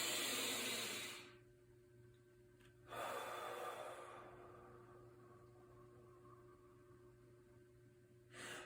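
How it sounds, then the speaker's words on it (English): A slow nasal inhale during a mindful breathing exercise, soft airy breaths through the nose rising and fading twice against a quiet hiss, no talking. "So we're still breathing in through our nose."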